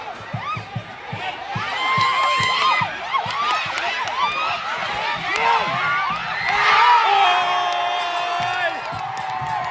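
Football stadium crowd at a Thai league home ground, supporters of both teams cheering and shouting, a loud continuous roar with rising whoops and chants, a commentator's voice over it.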